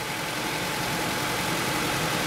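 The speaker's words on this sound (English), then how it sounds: "allow the engine to warm up" A 6th-generation EK-series Honda Civic engine runs steadily while warming up after a radiator replacement, with a close, continuous low idle hum and no voices.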